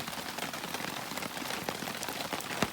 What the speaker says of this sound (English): Still raining, guys.